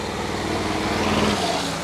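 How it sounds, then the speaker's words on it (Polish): A Jelcz rally truck's twin-turbocharged V8, tuned to about 500 horsepower, holds a steady, close, rumbling drone with no voices. "Jelcz jest wyposażony w silnik V8. Oryginalnie miał 400 koni, teraz ma około 500. Jest doładowany na dwóch turbinach."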